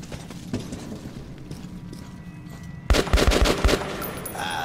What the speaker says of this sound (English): I'm gonna use a pistol.